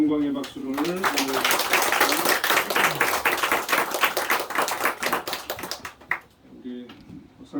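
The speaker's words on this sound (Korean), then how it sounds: "우리 하나님께 영광의 박수를 보내드립니다" Church congregation applauding during a Sunday morning worship service, dense steady clapping over several seconds mixed with a speaking voice at the start and end, tapering off near the close.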